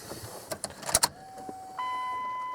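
A few clicks and knocks inside a 1998 Dodge Ram 1500 pickup truck, then the fuel pump priming with a steady electric whine that starts up and holds, faint and close.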